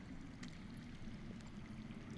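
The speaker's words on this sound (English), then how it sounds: "I hear water. From underground." Underground water flowing in a Game of Thrones video game, a soft, steady rushing and gurgling that stays faint and even throughout, with no voices.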